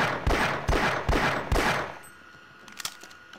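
Gunfire in the video game Half-Life: Source, four loud evenly spaced shots in quick succession, followed by quieter clicks and a faint metallic rattle after the shooting stops.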